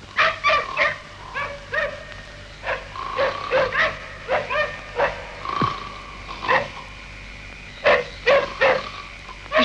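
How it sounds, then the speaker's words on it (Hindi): Several dogs bark repeatedly in short, uneven bursts, some yelping and whimpering, at moderate distance with quiet gaps between barks. "सुनता नहीं, कुत्ते कब से भौंक रहे हैं?"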